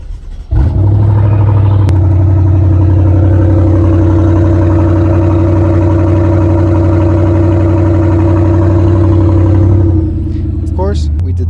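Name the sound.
BMW 650i M Sport driving with no exhaust fitted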